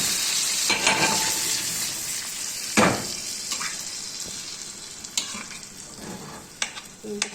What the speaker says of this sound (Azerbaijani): İndi bu qəşəngcənə qaynayıb portağalın şirəsində pişəcəkdir.